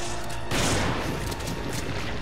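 Explosion in the video game Resident Evil 5, a sudden loud burst that rises out of a background rumble and decays into crackling noise over about two seconds, with no voice over it.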